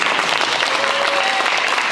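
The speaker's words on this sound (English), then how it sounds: "one last round of applause for Ms." Steady audience applause at a school signing day ceremony, dense and sustained clapping from a crowd at moderate volume, without speech throughout.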